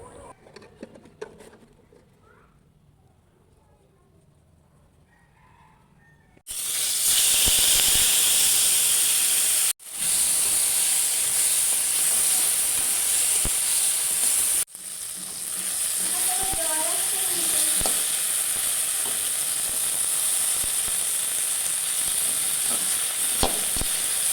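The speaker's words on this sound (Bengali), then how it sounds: "চিংড়ি মাছটাকে লবণ হলুদ মাখিয়ে নিয়ে ভাজা করে নেবো ভালো করে।" Shrimp coated in salt and turmeric frying in hot oil, a loud steady sizzle that starts abruptly after a quiet opening, drops out briefly twice, and then carries on with crackling hiss and no talking.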